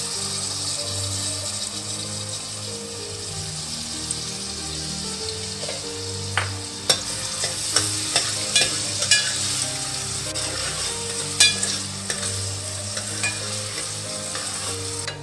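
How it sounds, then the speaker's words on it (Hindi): Onions fry in about a cup of hot oil for a halwa puri chana masala, a steady loud sizzle running throughout with occasional scraping and tapping from a stirring utensil. "इसमें हम ये इस प्याज को फ्राई करेंगे।"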